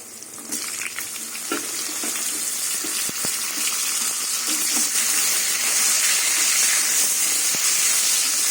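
Eggplant and flat beans fry together in hot oil in a pan, a loud steady sizzle and hiss that builds slightly over time with a few faint clicks.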